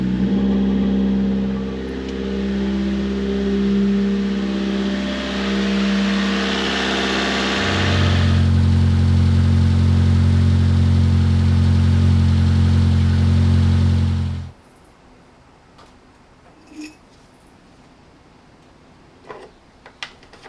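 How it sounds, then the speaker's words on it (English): A 1985 JDM Toyota Corolla FX-GT engine runs loud and close, settling into a steadier, deeper idle partway through before cutting off abruptly, followed by faint scattered clicks and clunks. "now I'm going to fire up the car and just kind of cycle it through"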